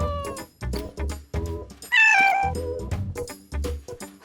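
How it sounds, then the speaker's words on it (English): A domestic cat meows repeatedly in a steady series of clear, close, loud calls, with one longer, higher wavering cry in the middle and no talking. "Cats talk to each other with meows all the time."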